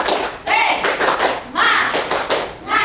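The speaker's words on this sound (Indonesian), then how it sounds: "Ya, coba tepuk semangat." Classroom of children doing a rhythmic 'semangat' clap, sharp bursts of hand claps in short patterned groups with brief pauses between, close and loud, with young voices calling out alongside.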